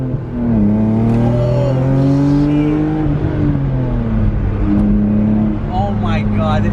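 BMW E36 M3 engine revving and pulling away on a first drive, a steady loud drone with rising and falling pitch throughout, heard from inside the car with voices over it.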